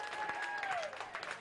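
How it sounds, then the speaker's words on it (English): A crowd applauds both teams after a 12-inning Minnesota Class C state tournament baseball game, Dumont versus Richmond. It is faint, distant, steady clapping with a whistle-like tone gliding over it. "And a round of applause for both teams."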